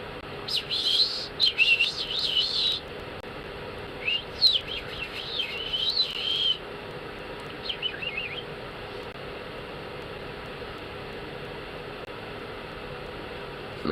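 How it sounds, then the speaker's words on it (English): Birds at dawn give bursts of quick, bright chirps and warbling phrases in the first half. Later comes one faint call, then only a steady hiss of background noise. "Birds woke up."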